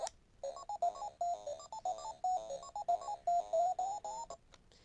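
Pac-Man game music beeps from a miniature recreation of the arcade cabinet, a quick chirpy electronic melody of short repeated notes, thin and moderately quiet, playing alone without talk.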